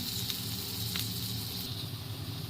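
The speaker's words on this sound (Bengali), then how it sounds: "এদিকে হচ্ছে সিম ভাজা এই যে সিমটা ভাজা হচ্ছে" Broad beans and onion fry in a pan with a steady, moderate sizzling hiss and a couple of faint ticks and pops, with no voices over it.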